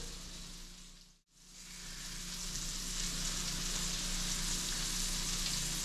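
Black drum fish fillets frying in a pan give a steady, close, loud sizzle, briefly dipping to near silence before the hiss swells back and holds.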